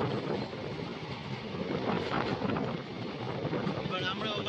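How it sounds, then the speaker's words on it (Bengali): Two freight trains run side by side, a dense low rumble of rolling wagons mixed with heavy wind buffeting, steady and fairly loud with faint voices under the roar. "দুটো মালগাড়ির রেস দেখো।"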